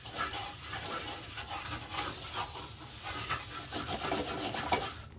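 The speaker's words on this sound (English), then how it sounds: "Just use the brush methodically." A cleaning brush scrubs a bathroom sink bowl with a little water in it, making a steady, close rubbing and rasping sound that runs throughout.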